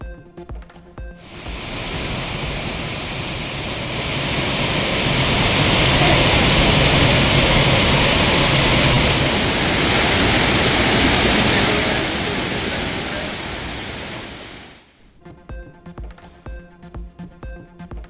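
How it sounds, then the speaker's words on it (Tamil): Courtallam waterfalls in flood after heavy rain roar as a loud, dense, unbroken rush of falling water that swells midway and then cuts off sharply near the end. "குற்றாலம் அருவிகளில் கடும் வெள்ளப்பெருக்கு"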